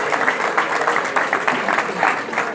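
An audience at a wedding celebration claps steadily, a dense, fairly loud patter of many hands that runs for a couple of seconds without pause.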